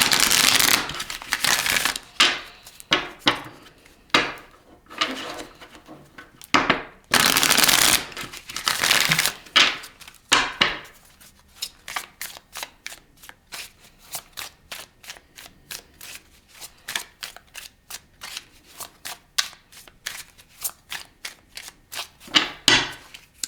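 Tarot cards are shuffled and drawn, bursts of riffling flutter at first, then a long run of sharp, evenly spaced card snaps and taps heard up close.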